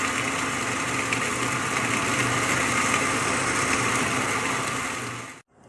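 A juice machine grinds fruit for juice with a loud, steady high-pitched motor whir that runs continuously, then cuts off abruptly near the end.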